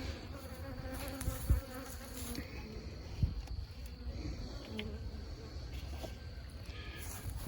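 Bees buzz steadily around an open beehive box, a soft continuous insect drone with a few faint thumps and handling noises, heard close but at low volume.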